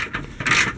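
3/8 drive ratchet turning on the AC belt tensioner of a truck with a 5.3 engine, giving a close, rapid clicking of the pawl in short bursts inside a garage.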